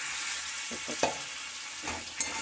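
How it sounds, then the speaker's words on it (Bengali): Chicken and potatoes fry with spices in a pan, giving a steady close sizzle broken by a few sharp utensil clicks as the mixture is stirred. "মশলাটা একটু ভাজা ভাজা হয়ে গেছে এবারে চিকেন আর আলুটা দিয়ে দিলাম"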